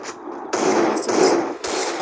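Gunfire in the video game CS:GO, sharp loud shots and a rattling burst in quick succession over roughly two seconds.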